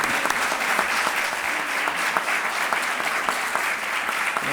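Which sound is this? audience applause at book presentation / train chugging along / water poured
audience applause at book presentation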